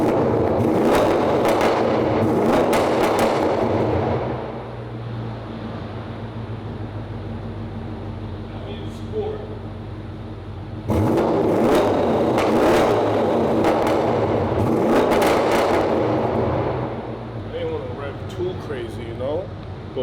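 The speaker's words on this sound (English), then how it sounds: "let me do a couple comfort revs" A BMW M550i engine with a titanium exhaust revs hard twice indoors, loud and close, with a raspy exhaust roar and crackles, settling to idle between pulls; voices talk alongside.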